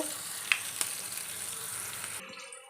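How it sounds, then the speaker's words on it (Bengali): Flat beans frying in a pan, with a dense, steady sizzle of hot oil and a couple of sharp crackles early on before the sound cuts off near the end. "সিম ভাজছি"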